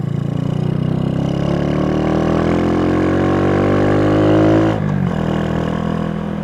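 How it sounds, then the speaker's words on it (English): Motorcycle with a modified aftermarket exhaust, a Honda Shadow Spirit, revving while riding in traffic. Its loud, throaty engine note climbs steadily in pitch for several seconds, then drops after a gear change and settles into a steady drone. "This thing just sounds nice right now. Love the way this exhaust sounds."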